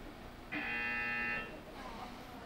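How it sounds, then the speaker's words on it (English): A single electronic buzzer sounds for about a second, a harsh flat tone over quiet background, followed by faint murmuring. "we give him a buzzer."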